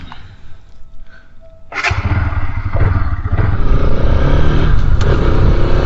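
Bajaj Pulsar RS 200 motorcycle starting to ride off, the engine rising from a quiet idle into a loud, close, rough rumble that builds steadily as it pulls away.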